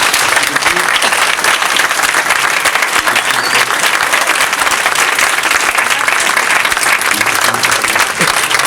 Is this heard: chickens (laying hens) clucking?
no